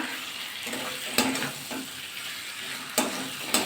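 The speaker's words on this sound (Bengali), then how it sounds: "চিংড়াগুলো দিয়ে দেবো এবার নাড়াচাড়া করে নেব" Prawns frying in a pan of spice paste crackle and sizzle steadily while being stirred, with a few sharper scraping knocks of the spoon against the pan; no voices.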